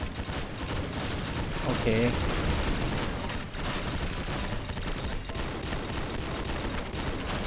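Dense, continuous gunfire from the Sentinal-SP transforming gun in the XSHOT mummy mode, rattling in rapid bursts throughout with someone talking briefly over it.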